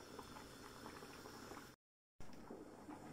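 Bulgur boiling in a pot on the stove, a steady close bubbling simmer that runs on its own, cut by a brief gap of silence, then resuming.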